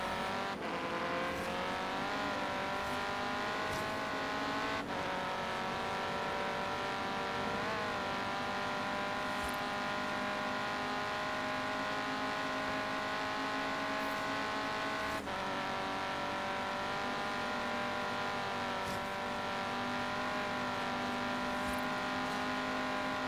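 An Alumicraft racer in Forza Horizon 3 roars along continuously, the engine note climbing and dropping sharply with each gear change and slide through corners, loud and close with no voices.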